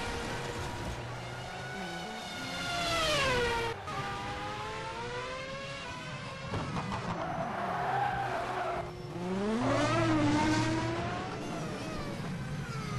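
Several Grand Prix racing cars roar through a video game race, engine notes rising and falling in pitch as they pass close by, with skidding tires and a crash amid continuous loud motor drone.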